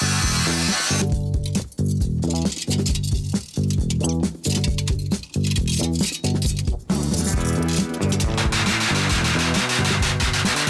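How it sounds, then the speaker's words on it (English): A power drill bores holes through the metal floor of a homemade boom lift platform, loud repeated whining bursts with short pauses between holes, close up and with no talk. "I need to just drill some holes right here yet."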